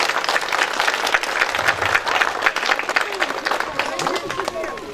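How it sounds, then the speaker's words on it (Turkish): A crowd at a village park opening ceremony in Hisarbeyli, Çatalca, claps in sustained, dense applause that stays loud throughout, with scattered voices mixed in. "Onlar için bir alkış istiyorum arkadaşlar."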